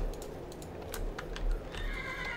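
A horse in Minecraft neighs with a loud, wavering whinny near the end, preceded by a few scattered hoof clops over a low background hum.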